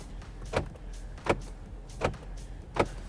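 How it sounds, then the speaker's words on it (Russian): Four quick, evenly spaced electric clicks come from the door lock button of an Opel Ampera-E, each a short thump-like actuation heard close inside the car against a quiet background. "Нажимая на кнопку, послушайте, какой звук издается."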